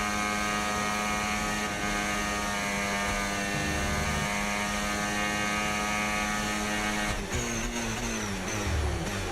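Formula 1 car engine in the F1 25 racing game, held at a high, sustained whining rev near its limit, with a brief jolt of a gear change near the end and no talk.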